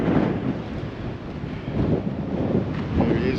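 Strong wind gusts buffet the microphone outdoors near Kimba, South Australia, a steady low roar swelling and easing over a few seconds with no other sounds.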